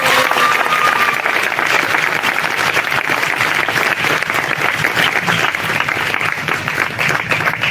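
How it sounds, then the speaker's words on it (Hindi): A church congregation applauds together in a sustained, dense burst of clapping that fills the room for several seconds, with no talking over it. "आइए प्रभु के लिए अच्छी ताली बजाएंगे।"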